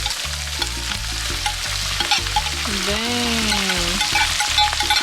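Salchicha sausage sizzles and crackles steadily in a discada pan, a continuous frying hiss running under a brief spoken exclamation and a faint whistling tone.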